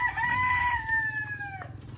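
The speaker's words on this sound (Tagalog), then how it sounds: "Ito yung stag ko." A seven-month-old White Kelso stag crows once, close and clear, in a drawn-out wavering call that drops in pitch at the end over steady low background noise.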